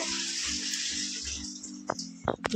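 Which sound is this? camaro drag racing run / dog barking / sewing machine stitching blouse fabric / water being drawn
water being drawn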